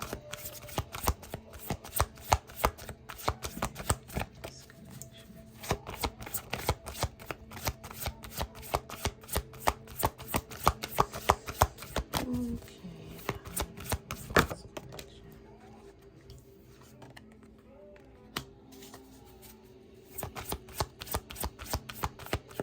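Tarot cards are shuffled close up in long rapid riffling bursts of crisp, dense flicks, with a quieter stretch in the middle before the shuffling picks up again, no voices.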